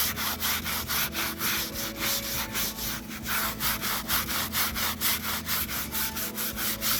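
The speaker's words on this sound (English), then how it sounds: "Still a lot of charred wood in there, so we'll scrape it a little more." Charred wood on a fractal-burned tabletop being scraped in steady, rhythmic back-and-forth strokes, close and fairly loud, with a continuous rasping texture running throughout and no talking.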